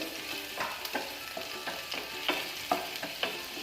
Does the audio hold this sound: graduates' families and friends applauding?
no